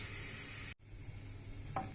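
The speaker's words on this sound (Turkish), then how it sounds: "Şimdi üzerine 3 yemek kaşığı arpa şehriye kullanıyorum. Bunlar kavrulana kadar karıştırıyoruz." Vermicelli toasting in melted butter in a pot as it is stirred, giving a steady close sizzle and hiss that drops out briefly, then returns with a faint scrape of the spoon.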